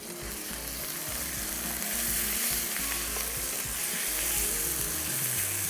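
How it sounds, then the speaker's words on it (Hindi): Peas, carrots and cauliflower fry in a pan with a dense, continuous sizzle and occasional stirring, loud and close throughout, no speech. "ये सब्जियां जिसमें है मटर, गाजर और गोभी, ये डाल के हम पहले फ्राई कर लेंगे"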